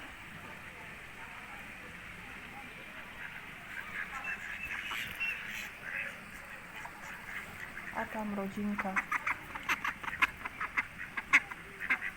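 Geese honk and quack close by, a cluster of calls building in the latter half over outdoor ambience, with a voice speaking briefly.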